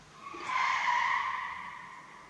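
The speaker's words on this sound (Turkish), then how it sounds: "Araba kaydı." A single car tire squeal rises, holds for about a second and a half, then fades, heard faintly from a distance outside.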